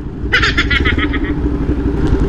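A stanced Mio motorcycle engine rumbles close by with a brief throttle rev that settles back to a steady idle.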